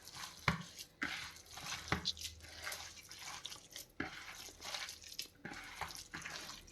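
Potato snack batter mixed with fresh coriander is stirred in a bowl, giving soft, wet squelching and scraping strokes repeated at a steady, unhurried pace, close and quiet with no speech.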